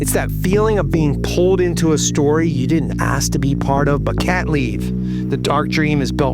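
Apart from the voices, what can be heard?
None of the usual background noises is heard.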